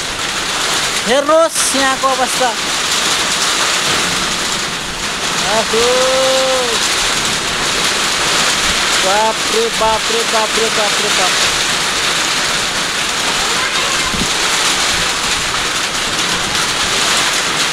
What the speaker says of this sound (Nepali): हावाहुरी सहित वर्षा लाग्दैछ।